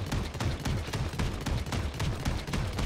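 Khan's heavy repeater from the game Paladins fires a rapid, dense string of booming shots, roughly four per second, loud and unbroken with no voices over it.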